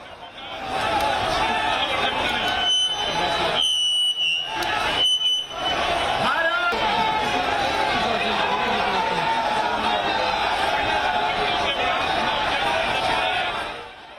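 Dense crowd noise from thousands of protesters massed at police barricades near the Bangladesh High Commission in Delhi, a continuous loud roar of shouting voices with shrill whistle or alarm-like tones piercing through briefly early on.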